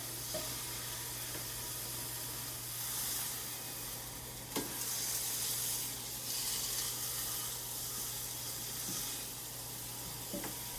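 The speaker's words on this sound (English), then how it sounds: "And you hear that sizzle? That's what you want to hear." Steady sizzling and hiss of meat searing in a hot pan, continuous and fairly loud, with a couple of faint clicks and a low hum underneath.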